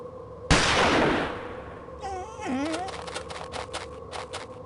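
A gunshot in a snowy outdoor scene of the Agatha Christie: The Orient Express game rings out loud and close, a sharp blast with a long decaying echo, followed by fainter scattered clicks and a brief whining animal-like cry.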